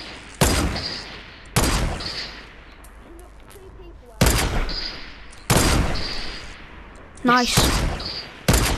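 Gunfire in Fortnite: loud, sharp single shots spaced a second or so apart, each with a ringing tail, repeated about six times, with brief talk in between.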